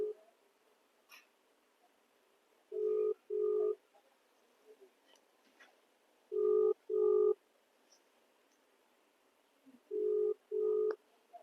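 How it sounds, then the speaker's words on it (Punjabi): A phone rings back unanswered in three evenly spaced pairs of buzzing tones, each pair followed by a pause of quiet room noise with faint clicks. "ਰਿੰਗਿੰਗ ਵੀ ਹੋਣ ਡਈ ਆ ਵੇਲਾ ਨੈਟ ਚਾਲੂ ਆ ਫਿਰ ਵੀ ਨਹੀਂ ਫੋਨ ਚੁੱਕਣ ਡਿਆ"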